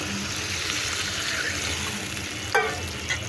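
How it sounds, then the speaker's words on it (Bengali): Water poured into a pan of stems cooking on the stove: a continuous hiss and sizzle under a running pour, with a brief splashy burst near the end, close and fairly loud. "এখন আমি ডাটায় জল দিয়ে দেবো।"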